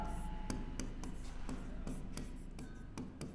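Repeated quick scratching strokes of writing on a board during a Hindi-language maths lesson on linear equations in two variables, coming in short bursts about every half second over a steady room hum, with a voice faintly present.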